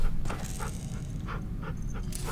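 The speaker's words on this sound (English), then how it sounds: "Yeah, Rosie's our dog now" A dog pants in The Walking Dead: The Final Season video game, with quick, close, steady breaths over a low background rumble and occasional soft whimpers.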